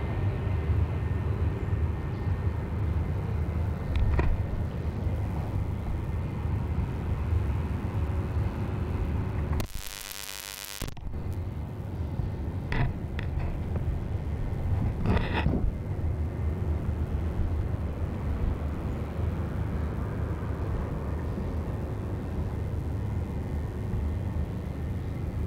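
A Qantas airliner passing at Sydney Airport, a steady broad engine roar holding for the whole stretch with a brief loud burst near the middle, heard from a plane-spotting position.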